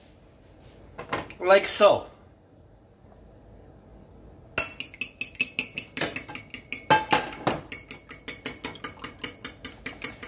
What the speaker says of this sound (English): we are going to mix it all together